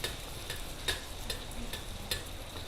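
Cucur jawa fritters frying in a small amount of hot oil: a faint, steady sizzle with a few light ticks and utensil clinks at irregular intervals, quiet and close.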